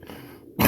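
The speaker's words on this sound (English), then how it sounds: "I could cough. This how my cough sound." A single short, close cough from a person ill with COVID-19 ends in a sharp burst, with no talking around it.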